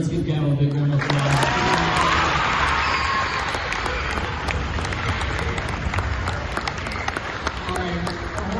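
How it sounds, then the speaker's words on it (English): Applause and cheering from a crowd at a middle school championship assembly, steady and sustained throughout, with some voices and shouts mixed in. "let's give Gavin a big round of applause"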